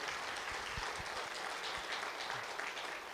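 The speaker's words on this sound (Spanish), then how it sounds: "Un fuerte aplauso a nuestro Dios." A church congregation gives steady, dense applause for God, a continuous wash of many hands clapping at moderate distance with no talking over it.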